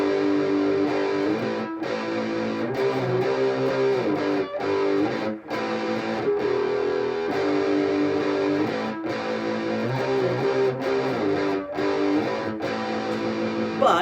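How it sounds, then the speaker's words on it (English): Stringed instrument strummed in sustained chords through a heavy distortion effect, thick buzzing tone with brief gaps between changes, loud and close with no talking. "we get kind of an interesting sound with that distortion on"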